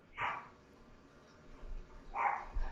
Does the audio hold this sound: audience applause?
no